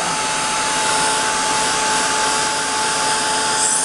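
Heat tool blowing hot air to set embossing powder, a loud, continuous, even whir held from start to finish, alone without voices.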